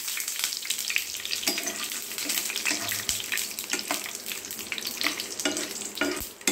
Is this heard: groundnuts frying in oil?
yes